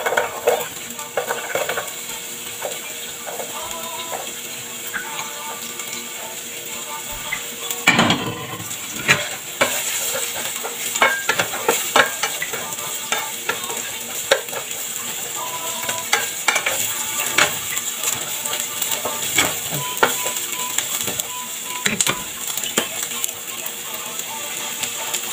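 Chopped onion frying in a pan, a constant loud sizzle broken by frequent scraping and clattering as it is stirred, with no voices.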